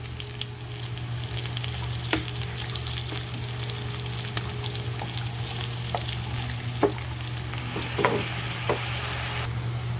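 Onion and fish sauce sizzling in a frying pan with pork, a steady close hiss with occasional sharp clicks and scrapes of stirring.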